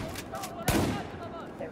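A single loud shotgun blast from first-person Battlefield 4 multiplayer gameplay, a sharp broadband crack about midway through over a busy background of distant battle noise and faint chatter.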